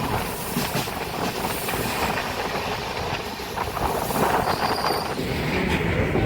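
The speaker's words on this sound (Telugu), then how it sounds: "సడన్ బ్రేక్ వేసి ఉండే ఓడ చైన్ పుల్ చేసింది అనుకుంటా." A Simhapuri SF Express train, running from Secunderabad to Gudur, brakes suddenly. The carriage gives a steady, loud rumble with broadband rail noise throughout, and thin, high wheel squeals rise now and then over the roar.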